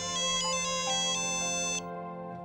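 A phone ringtone for an incoming call plays loud and near, a steady electronic melody with repeating tonal bursts that cuts off abruptly near the end, with no one talking.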